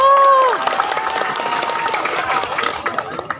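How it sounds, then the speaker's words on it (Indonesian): Crowd applause from residents at the Kampung Gembira Gembrong inauguration in Jakarta, steady clapping and some cheering that follows a brief tone at the start, fairly loud and close. "Tepuk tangan buat kita semua."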